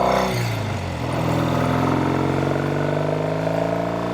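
A red 1968 Triumph Bonneville motorcycle engine running out on grass, a loud, steady throaty drone that dips briefly early on, then holds an even, throbbing idle-to-cruise note.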